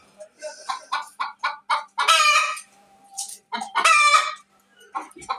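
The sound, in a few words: Light Brahma chickens clucking in a cage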